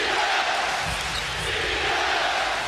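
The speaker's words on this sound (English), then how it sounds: "Crowd on its feet here at the TD Garden." A basketball crowd roars at TD Garden during a close, late-game Boston Celtics moment: a dense, continuous wash of cheering from a packed arena with no breaks.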